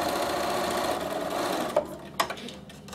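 A Bernina sewing machine stitches fabric in a fast, steady needle patter close up, then stops, followed by a couple of soft handling clicks.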